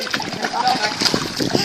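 Water splashes and sloshes in short, close bursts while a child is being bathed, mixed with soft speech from an adult nearby.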